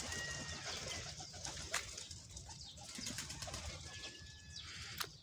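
Pigeons cooing softly among faint ambient noise, with a couple of brief wing flaps and a few thin chirps, distant and low in level.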